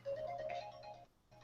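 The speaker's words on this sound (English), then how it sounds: "It's my phone." A mobile phone ringtone plays a short melodic phrase, pauses briefly, then starts again, faint and alone.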